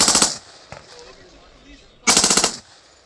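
An MK18 Mod 0 rifle fires two loud, close full-auto bursts, each a rapid string of shots lasting about a third of a second, separated by a pause with faint background noise.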